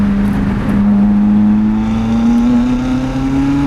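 A Lotus sports car, Exige or Elise, drives through Alpine mountain corners, its engine droning loud and steady from close by as the pitch climbs slowly under acceleration, with no voices.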